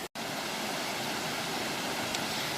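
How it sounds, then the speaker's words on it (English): A waterfall in the City of Bath, a steady broadband roar of rushing water that fills the whole stretch after a brief cut at the start, no voices. "So this is the waterfall that we've just come in from"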